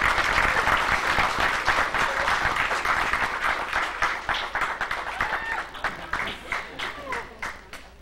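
An audience applauds at a fundraiser event, loud sustained clapping from a large indoor crowd that gradually thins out over several seconds.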